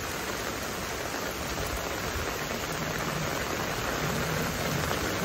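Heavy monsoon downpour in Mumbai, a dense, unbroken hiss of rain falling close by and loud, steady for the whole stretch.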